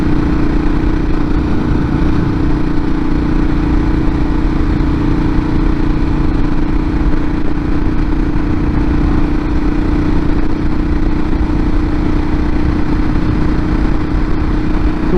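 Ducati motorcycle engine under way on a ride, a loud steady mid-pitched drone with a constant hum and no pauses for fifteen seconds, wind and road noise blended in.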